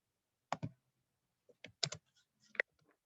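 Sparse keyboard typing, a few quiet clicks and short taps separated by silent gaps, close and alone with no voices.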